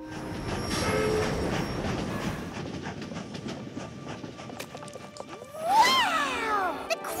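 An animated cartoon train rumbles and clatters along the rails, with a rising metallic squeal of wheels near the end; faint voices mix in underneath.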